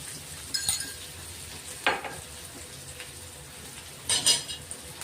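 Coarsely crushed green chili thecha fries in a pan with a soft steady sizzle, broken by a few sharp scrapes and clinks of a spoon stirring against the metal.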